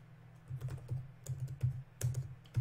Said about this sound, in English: if I can type it right this time